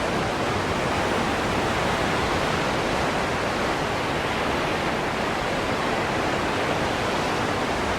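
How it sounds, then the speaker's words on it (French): A mountain river rushes loudly and continuously nearby, a dense, steady wash of flowing water with no voices. "On traverse une rivière."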